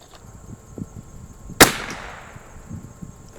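A single sharp crack from a vintage Anschutz 54 match rifle firing RWS special Match ammunition, fairly near, standing out briefly against faint background noise and rustling.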